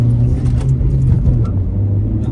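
A car engine revs during a hill start, a loud, steady low rumble held at moderate revs close by, with slight swells.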